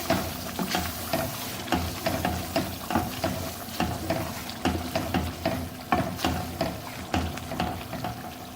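A spoon repeatedly scrapes and stirs through simmering chana dal and chicken curry as ground garam masala and kasuri methi go in, giving steady rhythmic clinks and scrapes over a soft, continuous sizzle, close by with no voices.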